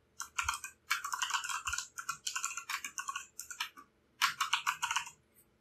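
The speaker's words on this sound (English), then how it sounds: "So I'm just going to type in random letters" Fingers type rapidly on a computer keyboard in several bursts of crisp, close key clatter separated by short pauses, with no voice.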